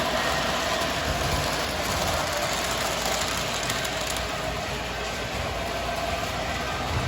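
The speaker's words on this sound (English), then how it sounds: "Who said you can't run a conventional train on a TIU track?" A conventional model train runs on a TIU-controlled layout track, giving a steady, continuous motor hum and rolling rumble at an even moderate level, with no talking.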